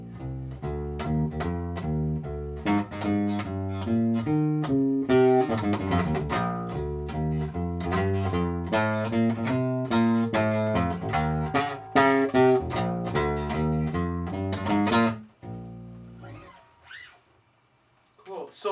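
A bass guitar plays a walking line built from chord tones of the Mixolydian scale, with steady plucked notes moving up and down for about fifteen seconds before stopping, followed by a few quiet noises.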